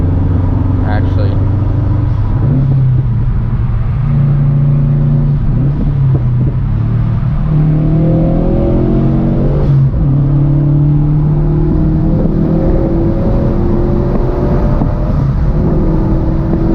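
A Subaru STI engine accelerating hard through the gears from inside the car, revs climbing and dropping at each shift in a loud, continuous drone, with occasional talk over it.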